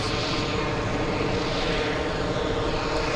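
An airliner takes off at JFK airport with a loud, continuous broadband engine roar that holds steady throughout, with no distinct voices over it.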